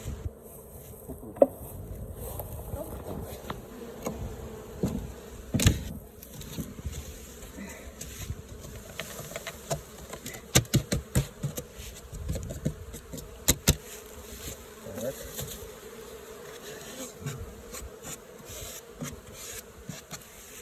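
Honey bees hum steadily at close range during a hive inspection, a low droning buzz broken by scattered clicks and light knocks of frame handling.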